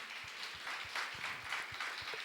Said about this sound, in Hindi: क्यों ना हम जोरदार ताली परमेश्वर की महिमा के लिए दें।